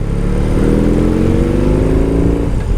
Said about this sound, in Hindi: ऐसा पिकअप ले सकते हो यार ये मोटरसाइकिल के साथ।